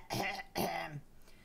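Someone clears their throat twice, close and loud, with two short rasping bursts in quick succession followed by a faint exhale.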